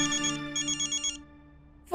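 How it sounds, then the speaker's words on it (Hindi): A telephone ringtone in a Hindi TV drama scene plays in repeated electronic bursts for about a second, then stops, and a voice starts at the very end. "फोन"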